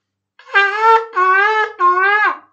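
Three separate wavering shofar blasts in a row, each lasting under a second, loud and close with short gaps between them.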